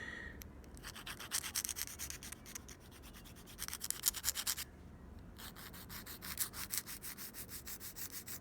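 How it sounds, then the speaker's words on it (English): Rattling of items on a table as a nail tip is filed, a continuous gritty scraping buzz in repeated bursts with a short pause midway, fairly close and without talk. "That's just the stuff on my table shaking."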